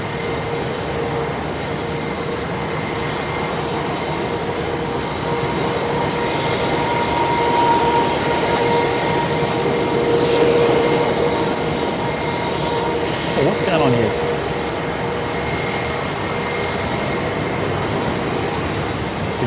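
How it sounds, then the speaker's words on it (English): Capital Airlines airliner taxiing out at Melbourne Airport, a steady distant engine drone and whine that holds at a constant level, with a brief clatter near the end. "the Capital Airlines now taxiing out as well"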